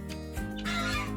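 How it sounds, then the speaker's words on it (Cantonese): Guinea fowl on a farm in Finland give a few short, close clucks in quick succession, with no talk over them. "啲珍珠雞呢啲非洲雞嚟㗎。"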